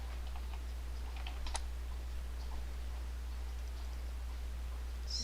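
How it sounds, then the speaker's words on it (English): Keys clatter on a computer keyboard as a web address is typed into an old Windows XP machine, a quick irregular run of faint clicks over a constant low electrical hum. "let me type like yahoo.com"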